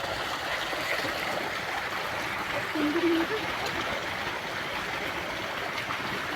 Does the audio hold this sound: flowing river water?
yes